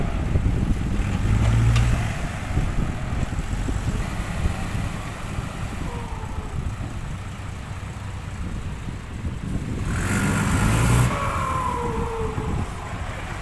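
A tractor pushes dirt to free a dump truck stuck in the mud, its engine rumbling steadily at a distance with wind buffeting throughout and swelling louder in a couple of surges.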